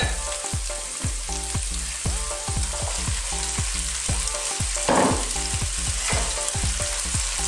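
Long beans tossed into chicken adobo frying in a pan, a loud close sizzle with rapid repeated clanks and scrapes of a utensil against the pan throughout, no voices.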